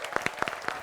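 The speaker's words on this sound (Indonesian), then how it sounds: "Tepuk tangan sekali lagi dong." A few scattered, distinct claps from an audience at an Indonesian televised comedy contest, sparse and uneven hand slaps at moderate level with no voices over them.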